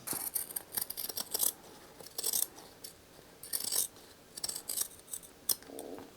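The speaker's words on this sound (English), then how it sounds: "take our scissors and we're going to actually trim this seam allowance" Scissors snip through a fabric seam allowance during sewing, crisp metallic cuts coming in quick clustered bursts separated by short pauses, close and clear with no voices.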